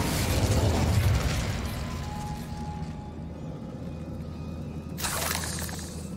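A fire spell cast in the video game Hogwarts Legacy bursts with a crackling, shattering blast near the start, and a second bright burst follows about five seconds later over a low game backdrop.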